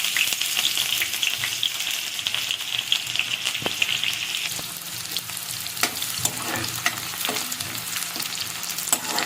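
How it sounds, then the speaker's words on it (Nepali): Chopped onion fries in hot oil with a few cinnamon pieces, a steady close sizzle running throughout, with a few stirring scrapes and clacks in the second half. "त्यसपछिबाट गएर म यसमा प्याज राखिदिँदैछु।"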